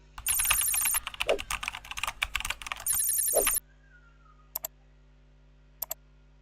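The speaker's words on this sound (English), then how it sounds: "type your text" Fast clicking keystrokes come from typing text on a computer keyboard, mixed with a loud electronic ringing tone in bursts, then quiet with a few isolated clicks.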